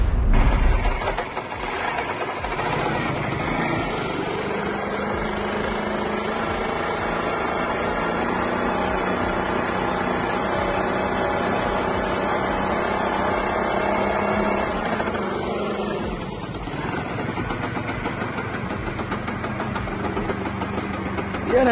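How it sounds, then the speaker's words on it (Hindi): A scooter engine powers a makeshift construction lift crane in India, giving a continuous mechanical clatter of running motor and rattling gears, loud and close, with a slight shift in tone partway through. "इस बंदे ने स्कूटर से ही कंस्ट्रक्शन लिफ्ट क्रेन बना दी है।"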